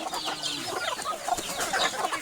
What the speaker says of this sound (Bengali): দৌড় দৌড় দৌড়, বাহ বাহ, শিক্ষিত মুরগি